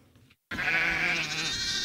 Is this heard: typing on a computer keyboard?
no